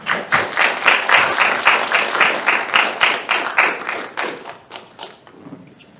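A hackathon audience claps for the judges in a lively burst of applause with a quick, pulsing rhythm that thins and fades away over the last couple of seconds.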